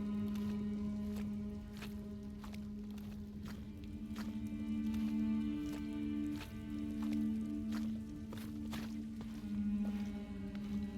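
Footsteps squelch wetly through thick mud in Shadow of the Tomb Raider, a steady series of soft sloppy steps over a continuous low ambient hum and drone, with no talking.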